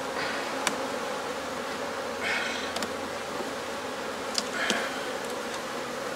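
Bees buzzing around an open hive during brood pulling, a constant close insect hum with a few louder individual bees zipping past the microphone, no speech.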